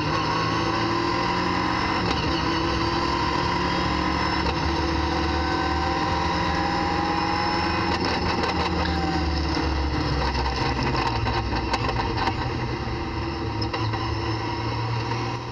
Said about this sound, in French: là on va écouter le bruit du moteur